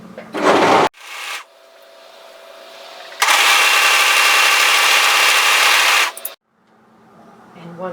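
A serger overlock machine stitches the shoulder seam of a zip-up hoodie at a 1/4 inch seam allowance, giving a short loud whirring burst, then a longer steady run of about three seconds, with quiet pauses between.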